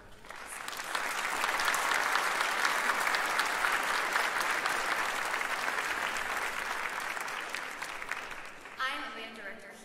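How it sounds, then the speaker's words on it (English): An audience at a school winter fine arts festival breaks into a big, sustained round of applause for the art students, dense clapping that swells quickly and holds steady before fading into a voice at the end. "can we give those art students a big round of applause?"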